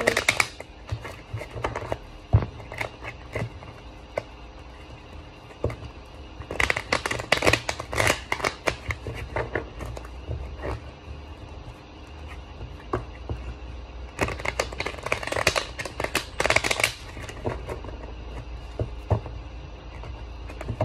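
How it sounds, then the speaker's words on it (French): Oracle cards shuffled by hand for a reading, repeated bursts of soft riffling and slapping in several rounds with short pauses between, close and clear with no talking. "on va prendre encore ce petit oracle. Et on va faire un tirage."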